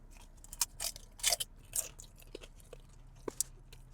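Chipotle carne asada beef bitten and chewed up close, a string of crisp crunchy bites followed by softer, quieter chewing, with no speech.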